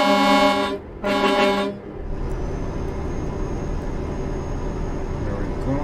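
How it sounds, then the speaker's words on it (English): In Euro Truck Simulator 2, a truck horn blasts twice, loud and close with a buzzing tone, the two blasts a short gap apart, then engine rumble carries on beneath. "The horns are very loud too."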